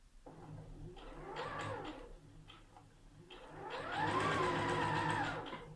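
A sewing machine stitches a gathered skirt seam in two soft, rising-and-falling runs at moderate distance, with a short lull between them.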